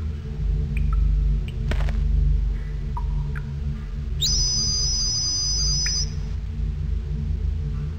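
A whistle is blown in the PC adventure game Orion Burger: one clear, sustained high-pitched tone lasting under two seconds, sounding over a low, steady game backdrop with a few faint blips before it.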